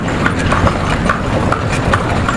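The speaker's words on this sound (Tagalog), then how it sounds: "At kami ay nakasakay na ng kabayo." Horse hooves clip-clop steadily and loudly during a horse ride on a tourist outing in Ilocos, Philippines, with a constant low background rumble running underneath.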